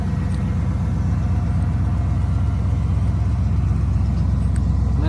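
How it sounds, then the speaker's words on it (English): A 1990 Ford F150 XLT Lariat 4x4 pickup idles with a slight surge, a steady close low rumble of even, continuous engine pulses with no voices over it. "You hear that idle kind of surge?"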